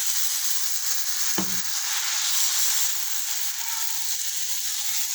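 Adai batter sizzling steadily on a hot griddle greased with sesame oil, a close, even hiss that runs throughout, with a brief clink of a ladle near the start.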